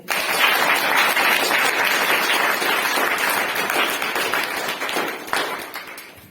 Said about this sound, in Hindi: थोड़ा ताली बजाएंगे